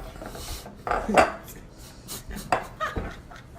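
Keto pizza dough being worked in a bowl gives a few close scraping, knocking thumps against the dish, irregular and unhurried, with no talk over them.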